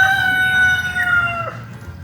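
A Ketawa rooster crows loudly and close, one long drawn-out call that tapers off near the end.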